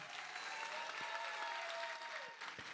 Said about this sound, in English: let's give them a one round of applause, please